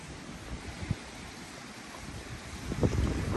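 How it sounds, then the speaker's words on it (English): Water surges against the rocky shore below a Scottish castle looking toward the Outer Hebrides, a steady rushing wash with wind buffeting the microphone that swells louder toward the end. "Oh no, it's just the water crashing up against the"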